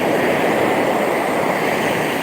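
Ocean waves wash in a steady, loud, unbroken roar of surf and spray, filling the whole stretch without pause and with no voices present.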